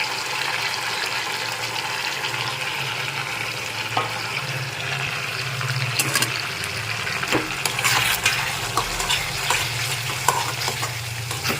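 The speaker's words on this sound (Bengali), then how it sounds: "আগে আমি একটু নেড়ে চেড়ে নিচ্ছি মশলাটা" Fried chicken pieces are stirred with spices in a pan for restaurant-style chilli chicken, a close steady sizzle with scraping and clattering strokes, busier toward the middle, no voices.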